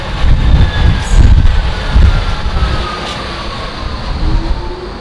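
A London Docklands Light Railway train near East India station rumbles along with a loud, rolling low roar and a thin squealing whine from the wheels, no voices.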